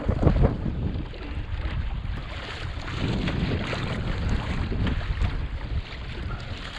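Strong wind gusts roar and buffet the microphone aboard a sailboat over a steady rush of water against the hull, with no voices.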